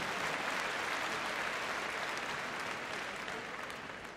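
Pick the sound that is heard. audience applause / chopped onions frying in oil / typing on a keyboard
audience applause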